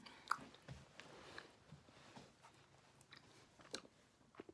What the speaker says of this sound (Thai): มากินไอติมกับไอ้นาง